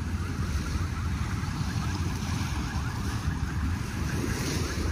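Steady wind and surf at Dolomite Beach on Manila Bay after a typhoon, a constant broad roar with a low rumble and no distinct wave breaks, heard alone at close range.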